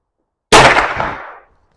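One suppressed gunshot from a Henry rifle at an outdoor range: a single sharp, loud crack right after a short silence, with a bright, noisy decay that fades out within about a second.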